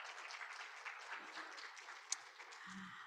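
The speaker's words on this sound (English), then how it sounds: "Round of applause for that set of questions." Audience applause at a mayors' breakfast event, a steady wash of many hands clapping at moderate distance, fairly even throughout with a brief sharper clap near the end.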